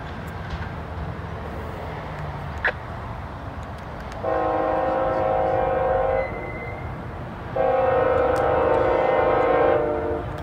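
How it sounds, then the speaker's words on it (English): A northbound CSX freight train on a short line in Kentucky rumbles past while its horn sounds in two long, loud blasts over the steady rolling noise of the railcars. "So we got a northbound CSX coming right now."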